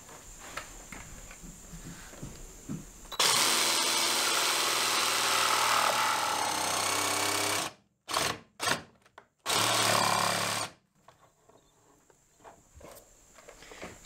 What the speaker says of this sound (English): I'm going to use my jigsaw for this cut.